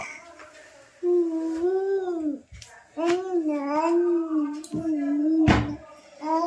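A dog whines and howls close by in long, drawn-out, rising and falling cries with short breaks between them, alongside a person talking.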